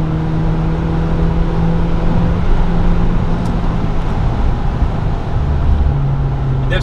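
A turbocharged Volkswagen Jetta, adapted for a tetraplegic driver, cruises at night with a steady, loud engine drone and road rumble that hold without pause, under occasional faint talk.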